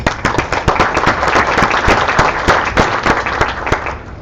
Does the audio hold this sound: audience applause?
yes